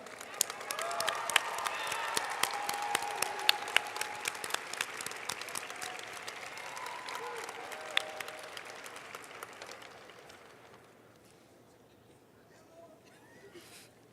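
A crowd applauds both competing teams at a science and mathematics closing ceremony, with loud, dense clapping and some voices for about ten seconds before it thins and fades away.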